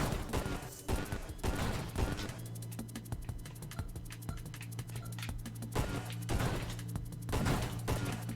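Rapid-fire shooting in the Nova Drift space game, a steady stream of quick synthetic shots with scattered crashes and bursts running through the whole stretch over a constant low hum.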